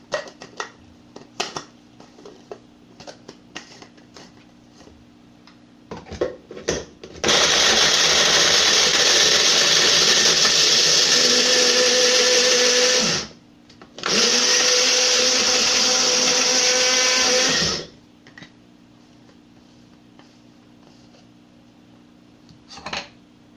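An electric blender grates a block of cheese. A few clinks come first, then two loud whirring runs, a six-second burst and a shorter four-second burst with a brief pause between, and then quiet.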